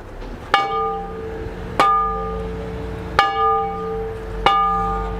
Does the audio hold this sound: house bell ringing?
yes